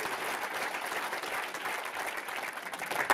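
An audience at a fitness-business sales talk gives a steady round of applause, many hands clapping continuously with an even, moderate intensity.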